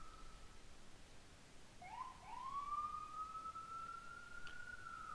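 An ambulance siren wails, rising and holding a steady high tone, heard at moderate distance over a low background rumble, with no one speaking.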